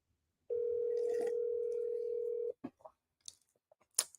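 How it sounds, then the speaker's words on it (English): A phone placing a call sounds a steady dial tone for about two seconds, followed by a few brief, sparse tones and clicks, fairly quiet and close with no talk. "We're gonna see if Lance pick up his phone, y'all"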